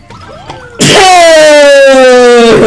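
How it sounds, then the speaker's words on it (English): A sneeze in a Super Mario Bros. Wii game, a sudden loud burst that stretches into a long, strained, falling wail after a moment of quieter game sound. "That was a weird sneeze"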